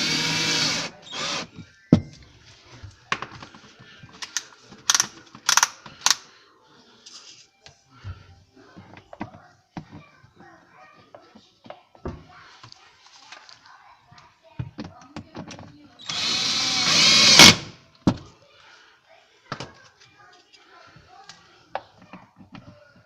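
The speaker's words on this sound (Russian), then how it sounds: "И прикручиваем саморезики." Power screwdriver driving self-tapping screws during a repair of an Ariston No Frost fridge: short bursts of tool whirring and clicks, one longer burst, scattered taps and handling noise, close by.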